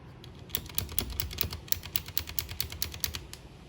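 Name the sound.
mechanical keyboard typing, Leaven K550 blue switches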